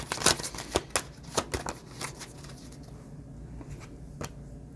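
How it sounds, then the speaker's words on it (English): Tarot cards are shuffled in a few quick riffling bursts up close, then the handling settles into quieter rustling. "Let me shuffle that here."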